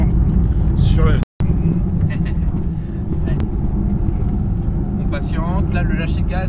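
A 500-horsepower Porsche GT4 RS drives on an ice track, its engine a loud, steady drone that rises in places, while people talk over it throughout.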